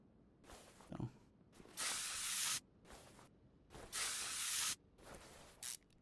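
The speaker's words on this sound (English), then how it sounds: "might as well spray both of these while we're down here" A spray can hisses onto rusty engine bolts near the crankshaft in short bursts, two long loud sprays between fainter puffs, close-up and otherwise quiet.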